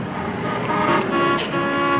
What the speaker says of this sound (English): I thought I heard you honking